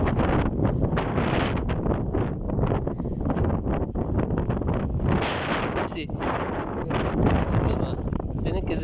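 Steady outdoor breeze buffets the microphone with loud, continuous rushing gusts for the whole stretch, while a voice can be heard faintly beneath the wind.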